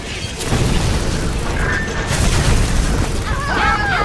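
Fire bursts into a roaring explosion in BioShock, a loud, dense, continuous whooshing rumble that holds steady throughout, with brief tonal effects rising over it near the end.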